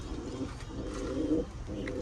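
A pet pigeon coos softly in low, rolling murmurs, three or four short bursts close by with no talk.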